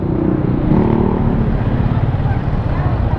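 A Benelli Motobi 200 Evo motorcycle accelerates on a ride, its engine a loud, steady drone mixed with heavy wind rumble throughout.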